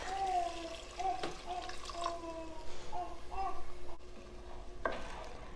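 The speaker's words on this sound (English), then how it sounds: "I'm gonna go ahead and add in probably like 2 cups of chicken broth" Chicken broth poured into a pan of toasted spices, giving a steady hissing sizzle with watery splashing and stirring scrapes, faint and close, with no talk over it.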